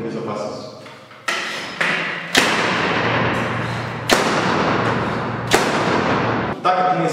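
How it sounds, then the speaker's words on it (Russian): A gas-powered nail gun fastens a metal drywall profile to a wall with sharp, loud bangs, about six shots spaced a second or so apart, and voices can be heard between them. "монтаж при помощи газового пистолета"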